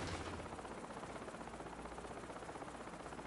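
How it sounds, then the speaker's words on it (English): A helicopter flies in a video game, its rotor chopping in a rapid steady pulse under a dense engine roar, held constant and moderately loud throughout with no talk. "This is actually perfect that we use the helicopter."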